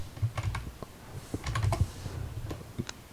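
Quick, uneven bursts of keystrokes on a computer keyboard, close and clear, as measurements are typed in with short pauses between clusters of taps.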